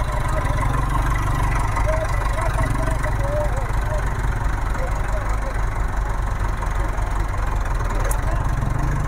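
Tractor engine running steadily at a village fair, a constant low rumble throughout with background crowd noise and faint voices mixed in.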